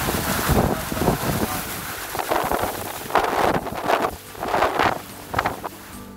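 Strong wind during a rainstorm in Karachi buffets the microphone in gusty, uneven surges with a rustling, hissing wash underneath and no talking.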